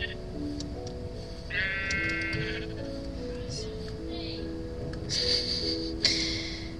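Sheep in the Minecraft video game let out a short, quavering bleat, then a second fainter one, over a steady background of game music and ambient tones, moderately loud and without talk.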